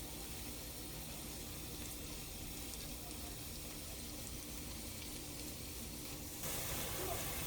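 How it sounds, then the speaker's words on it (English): Garlic and whole jeera frying in a pan for dal, a continuous soft hiss of sizzling oil, faint and steady throughout, growing slightly brighter near the end. "I'm going to let this fry for another 30 seconds"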